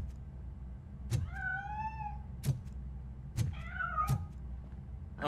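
Cat meowing in the RoboCop: Rogue City video game, two clear drawn-out meows separated by sharp clicks or thumps, close and loud over a low steady hum with no talking.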